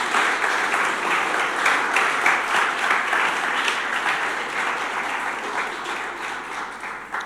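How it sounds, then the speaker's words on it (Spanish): A church congregation applauds at a Spanish-language service, a dense and sustained wash of clapping with a faint low hum underneath, easing off slightly over several seconds. "Porque le das tu mejor aplauso al Señor."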